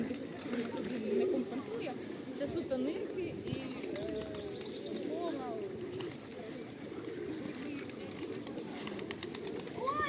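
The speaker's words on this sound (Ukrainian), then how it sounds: "Голуби." Soft, repeated cooing of pigeons close by, with a few chirps mixed in and a person talking over them outdoors.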